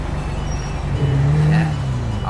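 The engine of a Bajaj Pulsar 150 motorcycle hums steadily close by, with a slight rise in pitch partway through as it is revved, and no talk over it.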